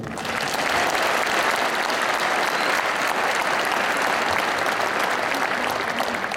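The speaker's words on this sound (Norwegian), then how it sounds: "og så gir dem en stor applaus til" Loud, dense applause from a large audience at an awards event, continuous and even for several seconds with a faint crowd murmur beneath.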